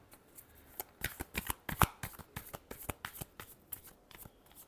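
Tarot cards riffled and shuffled by hand, a rapid series of crisp papery slaps and flicks in an uneven rhythm, close and clear with no speech over them.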